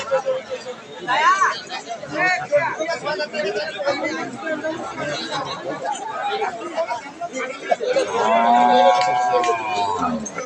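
A pregnant Friesian dairy cow moos at a cattle market, with a short low call early and a longer, loud moo near the end, amid steady crowd chatter and haggling voices.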